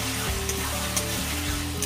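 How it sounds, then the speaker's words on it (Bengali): Potatoes sautéing with spices in a pan for a Sundarbans-style crab curry, a steady close sizzle with faint scraping stirs at regular intervals over a low background hum. "আলুটাকে আরো 5 মিনিট আমি ভালো করে কষিয়ে নেব"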